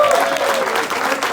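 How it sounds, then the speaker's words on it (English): Applause fills the room at a boxing press event following an 11th-round TKO, a loud, dense wash of clapping that holds steady throughout, with faint voices mixed into the crowd. "applause. Round of applause."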